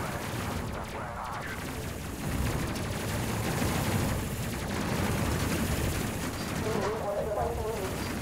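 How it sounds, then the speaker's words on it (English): Gunfire in the tactical space simulation game Space Crew crackles in rapid bursts and sustained volleys under a steady layer of game noise, while a person talks over it throughout. "They're shooting at us, because we haven't identified them."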